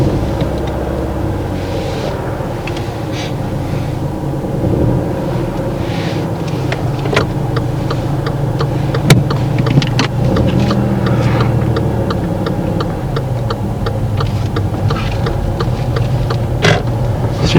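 A car pulls away and draws up again during a driving lesson, its steady low engine hum running throughout with faint ticking of an indicator, no talk in the cabin.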